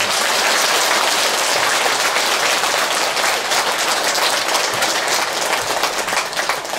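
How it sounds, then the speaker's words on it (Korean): An audience at a Buddhist lantern-lighting ceremony gives big, sustained applause, a dense wash of clapping hands filling the hall evenly for several seconds. "큰 박수 부탁드립니다"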